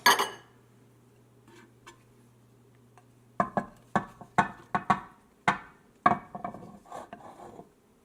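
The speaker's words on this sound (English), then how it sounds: "Okay, now it's time to stir in the pasta." A spoon stirs cooked pasta into macaroni and cheese in a pot, giving sharp knocks and scrapes against the sides in an irregular rhythm, close and clear, after a quiet stretch with a low hum.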